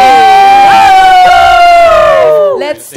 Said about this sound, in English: A round of applause for Lou, Andre, Yam Yam, and Fumia